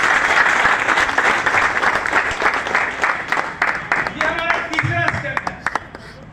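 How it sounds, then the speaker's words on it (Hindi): An audience claps steadily at a business training program in Moran, a dense, loud applause that fades slightly toward the end as a few other sounds break through. "एक बार जबरदस्त ताली से प्लीज सर"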